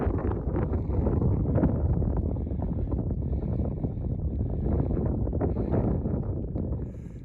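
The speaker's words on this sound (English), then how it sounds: "There's the wind back again." Strong wind buffets the microphone during a hilly trail ride across the Divide with fallen trees around, a steady loud low rumble that swells and eases for about seven seconds with no talk.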